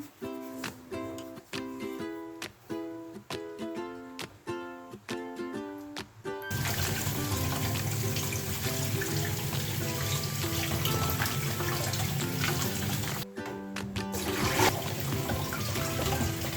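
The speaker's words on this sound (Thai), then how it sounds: "ถูแป้งมันให้ทั่วแล้วล้างน้ำให้สะอาด" Catfish rubbed with starch is rinsed clean under a running tap. A steady, loud rush of water follows a short stretch of tonal music, breaks off briefly, then resumes.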